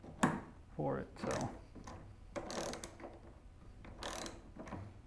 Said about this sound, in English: Once you get it to the point where it can turn with the ratchet, a socket wrench, it really is the end